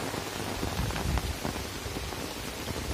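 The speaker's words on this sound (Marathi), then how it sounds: "आणि मुसळधार पाऊस आलेली," Heavy monsoon downpour pours steadily while people shelter under a tree trunk on a fishing trip with nets, a dense, loud, continuous hiss of rain with no voices.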